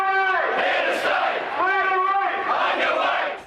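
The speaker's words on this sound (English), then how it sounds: "The union war cry brought Melbourne to a standstill." Protesters on Melbourne streets rallying against federal industrial laws chant a union war cry in unison, loud rhythmic shouted phrases from a large crowd, repeated in bursts.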